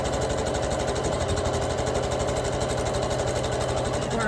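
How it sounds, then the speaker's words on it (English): A sewing machine runs continuously at a fast, even stitch rhythm, close and steady, while sewing a quarter-inch seam over elastic along the side of the fabric. "we're going to sew all the way up the side"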